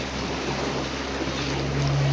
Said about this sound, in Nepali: पानी चाहिँ बगाल छ भाइ